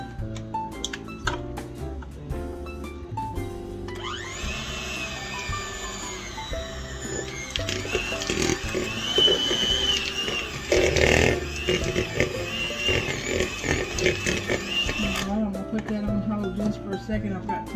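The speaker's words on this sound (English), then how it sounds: "So that was 1 8-ounce package of cream cheese, and I'm gonna go ahead and beat that up." An electric hand mixer beats an 8-ounce block of cream cheese in a bowl, starting with a high steady whir and then settling into a louder, rougher churning, while a voice talks quietly and dishes clink around it.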